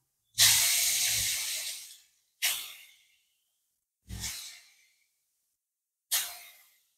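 Four separate bursts of sharp hissing as hilsa fish hits hot oil, the first long and loud, the later ones shorter and fading quickly to silence.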